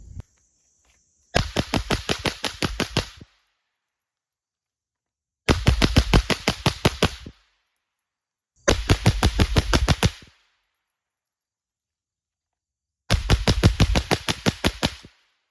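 A firearm fires rounds in four rapid bursts of sharp, closely spaced shots during a function check. Each burst lasts one to two seconds, is loud and near, and is separated by silent pauses.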